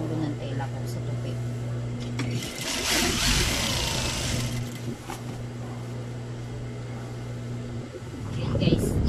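Sewing machine stitching fabric for a blanket, a steady motor hum running through most of the stretch with a brief rustle of cloth, quiet and close.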